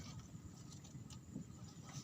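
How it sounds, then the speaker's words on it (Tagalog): Steady low rumble of wind buffeting the microphone, continuous and muffled with no distinct events and no voices. "Malakas po kasi ang hangin."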